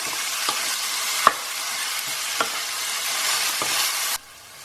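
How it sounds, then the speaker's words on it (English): Minced meat browning in a hot pan gives a steady broadband sizzle, with a few sharp scrapes of stirring, before it drops off abruptly near the end. "So we're just going to brown this mince for a little while"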